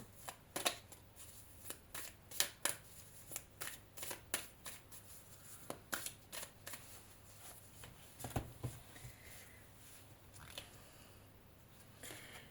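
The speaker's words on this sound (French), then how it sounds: "Je vais retirer 3 autres cartes pour être sûr que ça parle pareil." Oracle cards are shuffled and drawn in a quiet room, giving a steady run of close, crisp riffles and slaps that thin out toward the end, with no talking.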